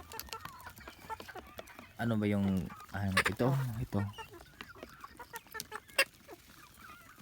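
Chickens cluck and squawk nearby in a short loud burst, with people talking quietly before and after.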